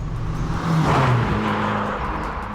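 Fiat Abarth 595 Competizione hatchback engine droning while driving on country roads, a loud steady rasp that swells briefly as revs rise, then settles back into an even hum.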